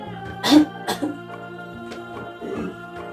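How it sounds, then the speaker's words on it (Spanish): A couple of short, soft coughs from one person close by during a doctor's lung examination, with a low hum in the background. "A ver, una tosecita."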